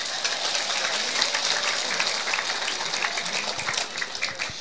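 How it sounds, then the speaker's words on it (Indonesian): A crowd at an Islamic religious gathering claps steadily for several seconds, dense and fairly loud, with scattered voices and cheers mixed into the applause. "Tepuk tangan dulu dong."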